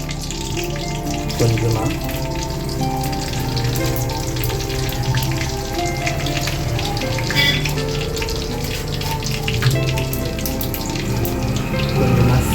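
Dried chilies and fennel seeds sizzle steadily in hot oil for a Tamil ridge gourd dish, a continuous loud frying crackle and hiss throughout, with a brief spoken word near the end.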